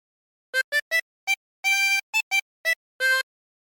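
Oh Susanna phrase on a 16-hole tremolo harmonica: nine short and longer reedy notes with wavering tremolo, close and clean between silent gaps.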